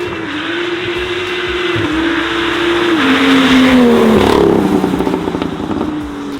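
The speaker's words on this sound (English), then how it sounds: "You can hear the car, revs drop, it gets a little bit louder." BMW M2 with a catless downpipe and no exhaust, engine revving loudly up close, pitch climbing and dropping with a raspy crackle as revs fall.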